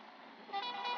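A truck horn honks in a truck driving video game, a short steady electronic tone sounding alone and fairly faint for about half a second.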